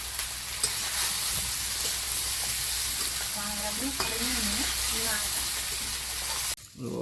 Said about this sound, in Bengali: আর এদিকে ভাজছি